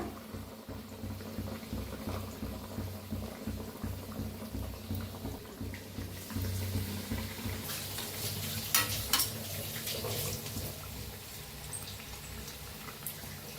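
Bread pakoras fry in hot oil with a steady sizzling hiss that swells when more pieces go in, growing fuller and crackling near the middle.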